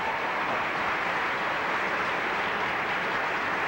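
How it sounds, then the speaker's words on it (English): Sustained, dense audience applause at a Miss Trinidad and Tobago pageant, a steady wash of clapping held at even loudness throughout with no voices over it. "another round of applause"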